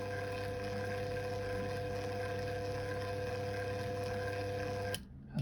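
Raex M100/M130 curtain motor running between its limit positions, a steady close mechanical hum with tonal whine that cuts off abruptly near the end.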